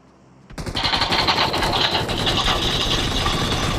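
Rapid bursts of automatic gunfire from the PUBG Mobile battle royale game, loud and sustained after a brief quiet start, with dense repeated shots under rumbling engine-like game noise.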